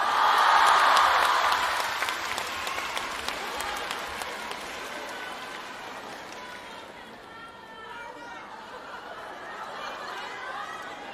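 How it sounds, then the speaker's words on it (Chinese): Hall audience at a Guo Qilin and Yan Hexiang crosstalk performance claps loudly at first, the dense applause gradually thinning and softening, with scattered laughter and murmurs mixed in. "感谢大伙儿的掌声鼓励"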